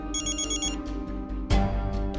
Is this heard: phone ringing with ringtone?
yes